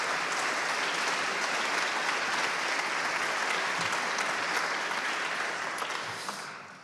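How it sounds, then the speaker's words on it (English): An audience claps steadily for elected officials and special guests at a Good Friday Agreement 25th anniversary event, the dense applause holding level before tapering off at the close. "if we could have a round of applause for all of our elected officials and special guests"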